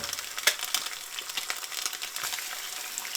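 Eggs frying in a pan for a home breakfast, a steady crackling sizzle with scattered sharper pops, close and fairly loud with no talk.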